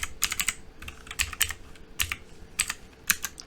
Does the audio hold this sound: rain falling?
no